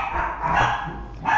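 Dogs bark in a rough, continuous outburst, fairly loud and nearby, with overlapping yaps and no speech.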